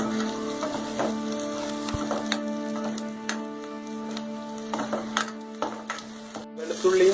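Onions fry in a pan for chicken curry, with a continuous sizzle, a steady hum underneath and irregular scraping stirs and clicks, heard close and without talking.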